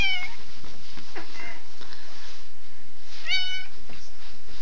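A cat meows loudly up close twice, a short call at the start and another a few seconds later, over faint background noise.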